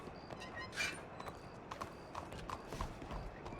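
Horse hooves clip-clop at a steady walking pace in a video game, fairly close and clear, with occasional sharper hoof strikes over a soft background hiss.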